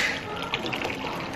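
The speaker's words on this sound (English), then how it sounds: "I'm gonna add more water." Water pours into a cooking pot of simmering vegetables in a home kitchen, making a steady splashing, filling rush that is fairly close and continuous.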